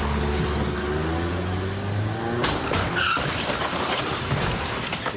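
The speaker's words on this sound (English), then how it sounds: "With wheels spinning and smoke pouring, this dark-coloured Mitsubishi pushes past the white car in front" A dark-coloured Mitsubishi launches through an intersection, engine roaring as its wheels spin and tyres screech in a loud, sustained skid that peaks midway, with a sharp clatter near the end.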